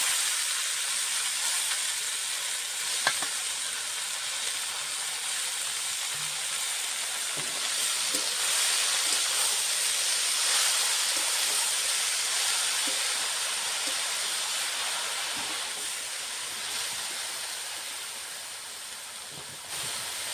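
Cut pea greens sizzle in a hot pan, cooked alongside a fish head, giving a broad, steady hiss that swells and fades slightly over about twenty seconds, with a few faint clinks and no talking.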